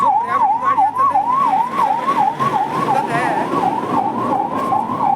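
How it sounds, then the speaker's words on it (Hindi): An ambulance siren wails steadily on the road, its rising and falling tone loud and close and cycling rapidly throughout, while brief talk sounds faintly beneath it. "ये देख सकते हैं एम्बुलेंस आ रही है"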